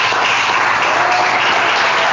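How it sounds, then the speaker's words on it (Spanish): A church congregation claps together in a dense, even burst of applause, loud and close throughout the short stretch. "Démosle un aplauso al Señor."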